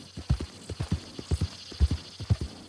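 Horse hooves clip-clopping in a steady trotting rhythm while riding in Red Dead Redemption 2, close and clear over a faint background hum, with no voices.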